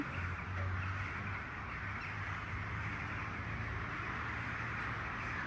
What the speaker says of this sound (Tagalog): Nandito pa rin yung mga ibon, guys.